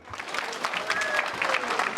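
Audience applause at a school annual day celebration, a dense burst of clapping with some whistling, continuous throughout.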